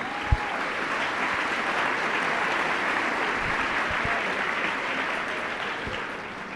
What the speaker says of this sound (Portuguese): dá uma salva de palmas para a palavra do Senhor